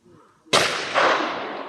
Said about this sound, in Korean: 총을 사격합니다